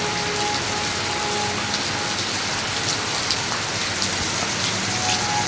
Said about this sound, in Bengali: খুব পরিমাণে মালয়েশিয়াতে বৃষ্টি হচ্ছে